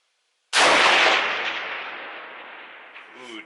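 A Weatherby Vanguard 2 .308 rifle fires a single loud, sharp shot at a 6-inch steel plate outdoors, with a long echoing decay trailing off afterward.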